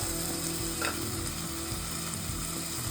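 Potatoes frying in a pan give a faint continuous sizzle, with one soft scrape of a stirring spoon near the start.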